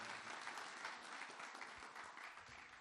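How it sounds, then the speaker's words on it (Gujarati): Audience members at a village stage performance in Keshod clap together in a steady, even round of applause, soft and slightly distant, easing off a little toward the end. "વધાવો એકવાર તાળીઓથી."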